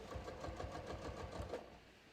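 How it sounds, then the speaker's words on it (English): Sewing machine stitching through layers of denim for jeans, giving a steady, fast mechanical whir and rhythmic clatter that runs quietly, then slows and fades near the end. "All right, so I'm going to start stitching."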